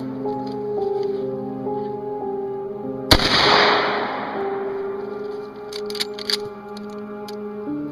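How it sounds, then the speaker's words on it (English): A single loud .35 Marlin rifle gunshot cracks out sharply and rings off into a fading decay, heard over a steady musical tone bed with a few faint clicks afterward. "I found a YouTube video of someone demonstrating the same gun."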